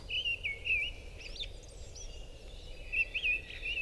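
Magpies at a garden feeder give short whistled, chattering calls in a few scattered bursts. They sound faint and somewhat distant against a quiet background.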